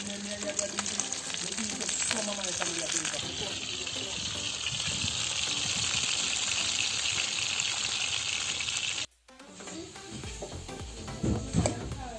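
Fish frying outdoors in a pot, a loud, steady sizzling hiss that runs for about nine seconds and then cuts off sharply, leaving quieter background rattles and clinks while someone talks.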